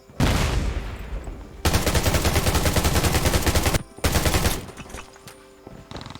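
Loud automatic gunfire in the video game Undawn, rattling out in long sustained bursts separated by short pauses, followed by scattered shots toward the end.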